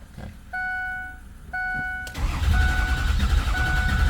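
Two steady warning chimes sound, then the 6.0 Powerstroke diesel engine of a 2006 Ford F-350 truck cranks without starting, a loud, churning rumble that keeps grinding on.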